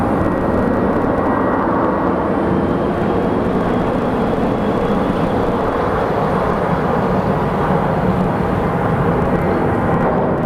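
Boeing 737-700 jet airliner at Phoenix Sky Harbor Airport, a loud, steady broadband engine roar sustained across the whole stretch, close and powerful with a slow swell in the middle.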